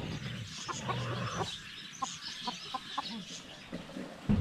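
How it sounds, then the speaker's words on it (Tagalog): Chickens let out of their coop cluck outdoors in a series of short, moderately close calls scattered over soft background noise. "Naaliw po yung mga manok na nakalabas."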